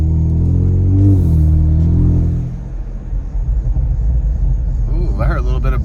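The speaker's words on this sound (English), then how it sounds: "I heard a little bit of burble action." A stock Kia Stinger accelerates hard, its engine rising in a loud rumbling pull before easing off into a low burbling exhaust, heard from inside the car, with someone talking over the first part.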